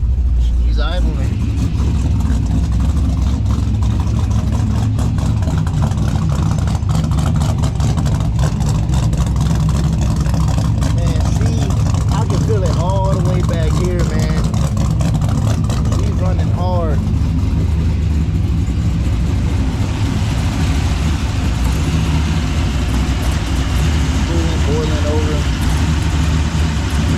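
A 6.0 LS V8 car engine idles with a steady, low, throaty rumble while a person talks on and off over it.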